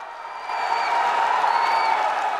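Stadium crowd roaring and cheering after a men's 73 kg judo gold-medal win at a military sports event, a broad sustained wash of voices swelling after a quiet start and holding steady.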